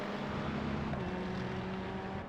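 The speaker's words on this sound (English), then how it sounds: "You can hear that deep roar of the Mercedes." Mercedes and Ferrari GT race car engines in the iRacing sim, a steady low droning roar with a constant tonal hum, held at even loudness throughout with no voices.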